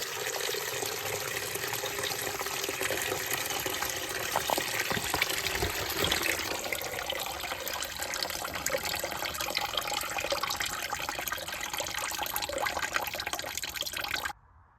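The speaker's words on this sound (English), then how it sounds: "simply pop the bottom radiator hose off and drain whatever coolant" Coolant pours steadily from the pulled-off bottom radiator hose of a VT Commodore with an Ecotec engine, a continuous close splashing trickle with no talk that cuts off abruptly near the end.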